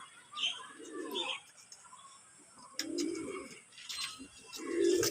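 Andhra tipler pigeons coo softly in low, rolling bursts, with a female nearby being shown for breeding, and brief chirps and light bird noise scattered over the background between calls.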